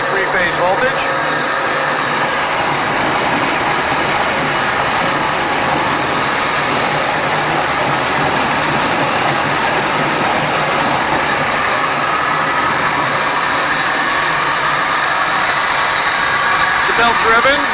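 25 gallon Breddo Likwifier mixer, belt driven by a motor on a 220-volt three-phase frequency controller, running at about two-thirds speed with a steady loud hum and drone, someone talking over it.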